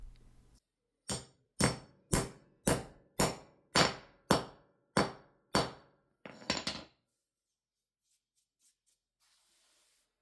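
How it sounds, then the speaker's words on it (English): Hammer blows tapping a concrete anchor flush into a drilled hole in a cement floor: nine sharp, evenly spaced metallic strikes, close and loud, then a short rattling scrape and near silence. "Now let's drop this anchor in the hole and tap it in with a hammer"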